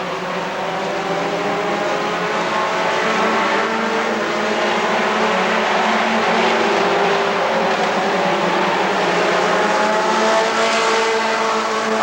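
Race cars roar continuously around the oval at Rockford Speedway, their engines droning loud and steady with layered whines as several cars pass close together.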